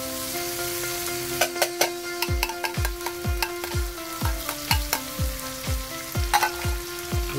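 Corned beef, Highlands brand, fries in a pan while a utensil stirs and scrapes it in regular strokes, steady sizzle underneath and sharp knocks against the pan repeating every half second or so.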